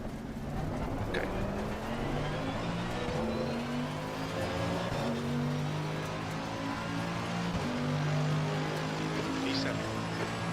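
A Lamborghini race car in a racing video game at Spa, its engine droning steadily with rising and falling revs through the gears, while a voice talks over it at times.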